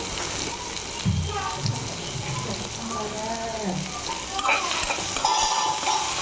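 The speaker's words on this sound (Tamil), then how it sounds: "தக்காளியை நைஸாக கட்டி வச்சுக்கிறேன். அதையும் நல்லா வதக்கிக்கலாம்." Finely chopped tomatoes with salt sauté in a pan for pani puri masala. A steady sizzle and stirring scrapes continue while a voice talks faintly in the background.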